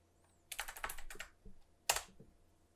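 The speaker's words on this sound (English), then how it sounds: "Maybe we need to type" Typing on a computer keyboard, a close burst of quick key clicks followed by a pause and then a couple of sharper, louder keystrokes, in an otherwise quiet room.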